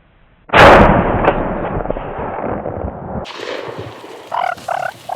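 A single loud, close shotgun blast is fired at Maine turkey gobblers during a spring hunt, with a long rolling echo trailing off afterward and faint bird calls following.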